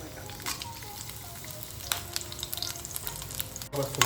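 Green chillies fry with garlic in oil in a pan for vada pav, a soft steady sizzle with light stirring scrapes and a few clinks, fairly quiet and close.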